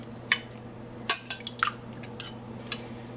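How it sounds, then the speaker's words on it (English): Hot lasagna sauce being spread around the bottom of a pan for a cheesy spinach vegan lasagna, a few sharp clinks and scrapes of a utensil against the pan over a low steady hum. "Mix some sauce around on the bottom."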